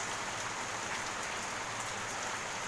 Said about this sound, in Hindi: आज मौसम बहुत सुहाना हो रहा है, रिमझिम बारिश हो रही है